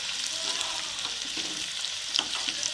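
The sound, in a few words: garlic frying in oil while being stirred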